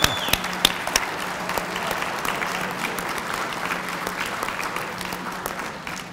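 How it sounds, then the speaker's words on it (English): A seminar audience of veterans claps for a member standing up, a few sharp close claps at first, then steady moderate applause that tapers off slightly at the end. "So why don't you stand up and let us give you a round of applause"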